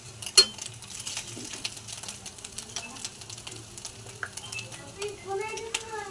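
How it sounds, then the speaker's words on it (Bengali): Ground spices such as cumin powder fry in a pan for a pumpkin and Malabar spinach curry with fish roe. There is a soft, continuous sizzle with scattered scrapes and clinks from stirring, and light talk intermittently over it. "এভাবে নাড়াচাড়া করেই ভাজতে হবে"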